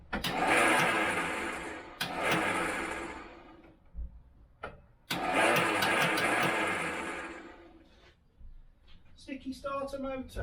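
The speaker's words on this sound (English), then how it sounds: "I'm going to run the car again just to get the oil circulating again" An Austin Allegro fitted with new spark plugs cranks with a sticky starter motor, giving two long whirring, ticking cranking bursts separated by pauses, then a short run of rapid clicks and rattles at the end.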